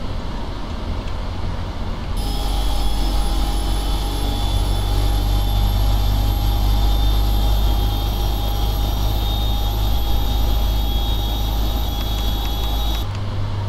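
Boeing 777 engine starting in the PMDG flight simulator game: a loud, continuous jet roar with steady high whining tones and deep rumble, swelling in and then cutting off near the end.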